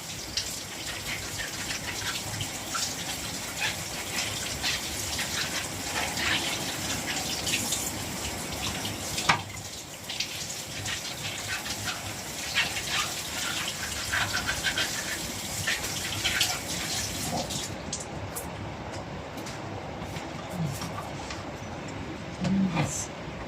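Vegetables for a meatless vegetable soup washed under a kitchen tap, with a steady loud gush of running water splashing continuously for over twenty seconds before easing near the end.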